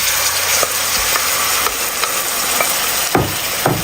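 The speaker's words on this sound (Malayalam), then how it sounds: "ഇനി ഇതിലേക്ക് ഉടച്ച് വെച്ച ഉള്ളി ചേർത്ത് കൊടുക്കാം" Crushed shallots frying in hot oil with chili powder, a loud continuous sizzle close up, punctuated by periodic spoon scrapes and stirring knocks against the pan.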